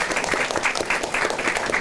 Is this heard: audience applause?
yes